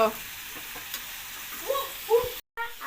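Mustard and garlic paste fries in a pan with a moderate, crackling sizzle, broken by a few brief bubbling pops and a faint voice in the background.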